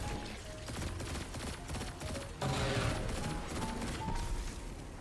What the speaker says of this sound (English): Whittle it down with the pulse rifle.